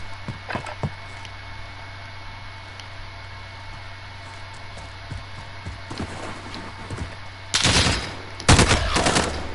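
Automatic gunfire from a favorite gun in Call of Duty: Modern Warfare, heard as two dense bursts late on, after a stretch of faint clicks and steady background hum.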